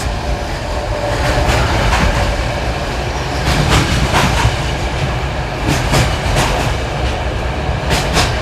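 An older passenger train travelling from Bulgaria to Romania rumbles steadily from inside the carriage, with repeated clickety-clack wheel beats over rail joints, loud and continuous.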